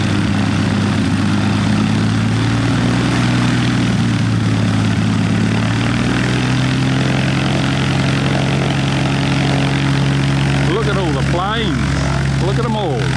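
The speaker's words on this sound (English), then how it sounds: "It's got quite a big motor in it by the sound of it." A propeller plane engine drones loudly and steadily nearby for the whole stretch, with voices talking underneath near the end.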